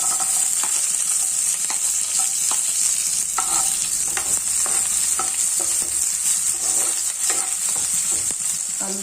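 Onions sizzle and fry in hot oil with whole garam masala spices and bay leaf for chicken khichuri, a steady loud crackle with scattered stirring scrapes and clicks throughout.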